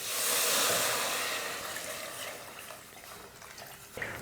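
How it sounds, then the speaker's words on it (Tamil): Water pours and splashes into a cooking pot with goat legs, pepper and cumin for soup, a soft steady rush that gradually fades to a quieter trickle. "தண்ணி சேர்த்துக்கலாம்."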